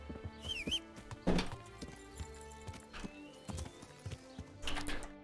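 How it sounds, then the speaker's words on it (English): Horse hooves clip-clop in the medieval game Kingdom Come: Deliverance, quiet and irregular, mixed with game music and short effect sounds. "Horse."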